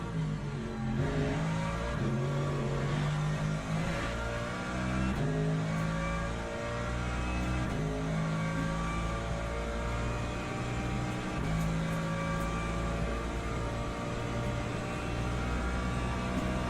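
Hypercar engines in the Le Mans Ultimate racing sim at Bahrain, a steady loud drone of racing motors with shifting pitch bands as cars close in, sustained throughout without speech.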